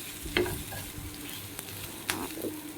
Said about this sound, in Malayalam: എന്നിട്ടൊന്ന് വഴറ്റി കൊടുക്കണം